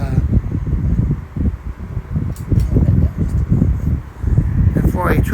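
A Dayton 12-inch high velocity fan roaring at full power, a close, loud, steady rush of air with a gusty, buffeting texture.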